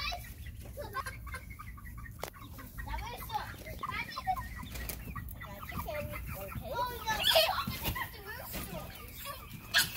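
Backyard chickens cluck repeatedly at close range, with voices talking at times between the clucks.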